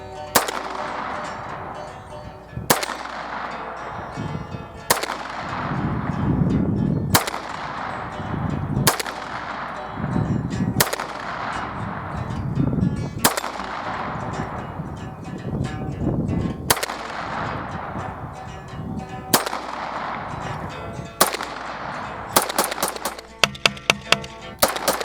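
Beretta 92FS pistol fired at a range, about a dozen sharp, loud shots spaced a second or two apart, ending in a quicker burst of several rounds.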